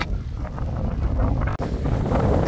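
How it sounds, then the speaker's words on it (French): Strong wind buffets the microphone outdoors on a hiking trail in the Aisne, France, with a roaring, gusty rumble throughout and one sudden brief dropout. "où qu'on soit, il y a du vent"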